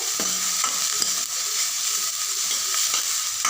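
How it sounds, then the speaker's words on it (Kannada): Chopped onion, green chillies and garlic fry in a pan with a loud, constant close-up sizzle and hiss, crossed by a few light stirring scrapes and clinks, and no voices. "ಆವಾಗಲೇ ಚಾಪ್ ಮಾಡಿ ಇಟ್ಕೊಂಡಿರೋ ಆನಿಯನ್ ಮತ್ತು ಮೆಣಸಿನ್ಕಾಯಿನ ಹಾಕೊತಾ ಇದ್ದೀನಿ ಹಾಕ್ಕೊಂಡು ಇದನ್ನೆಲ್ಲ ಚೆನ್ನಾಗಿ ಫ್ರೈ ಮಾಡ್ಕೊಬೇಕು"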